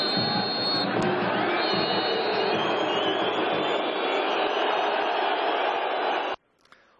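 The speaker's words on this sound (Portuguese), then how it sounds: "com vaias e protestos do torcedor" Dense football crowd at Morumbi stadium booing and protesting after a third goal conceded, a sustained roaring wash of voices from a distance that cuts off abruptly near the end.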